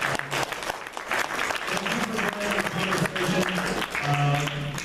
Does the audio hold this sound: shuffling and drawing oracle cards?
no